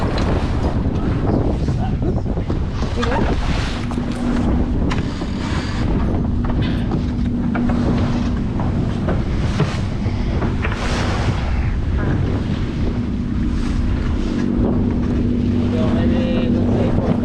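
Sailboat tacking into the wind in Portland Harbor, Maine, in fall: steady loud wind buffeting the microphone, water rushing against the hull and a low hum run throughout, with voices talking intermittently.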